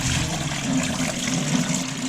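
Steady sloshing and trickling of dirty, gritty water in a truck wash bucket, a continuous close wash of liquid with a low hum underneath, no voices.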